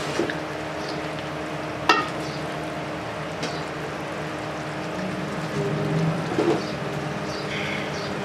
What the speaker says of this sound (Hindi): अच्छे तरीके से मिक्स करके फ्राई करेंगे।